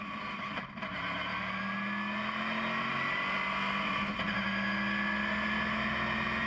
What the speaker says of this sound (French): Caméra embarquée avec Thomas Ferrando pour le départ.